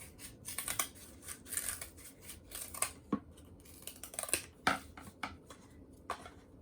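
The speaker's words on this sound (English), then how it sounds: "Cut the round shape of the cardboard." Scissors cut around a round cardboard shape, a close series of crunchy snips with small pauses, steady and dry in a quiet room.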